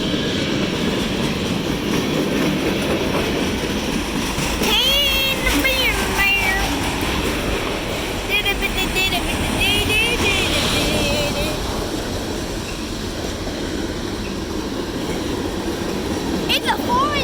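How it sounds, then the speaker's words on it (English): A short CSX freight train pulled by four engines rolls past close by, a loud continuous rumble and clatter of wheels on rail with squealing wheel tones and horn-like bursts partway through. "It's a 4-engine train."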